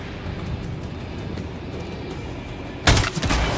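Gunfire and explosions in the video game Ghost Recon Wildlands: a steady bed of battle noise, then a loud, sudden explosive blast near the end that rumbles on.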